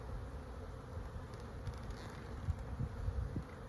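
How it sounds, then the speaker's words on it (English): Honey bees swarm over a hive frame, making a soft, steady buzzing drone that is faint and continuous, with no voices over it. "Tons of bees on this one."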